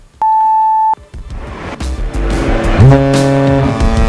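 A ship's hooter sounds: a short, steady, pure beep comes first, then a few seconds later a deep, loud, rich horn blast that swells and holds, with no speech.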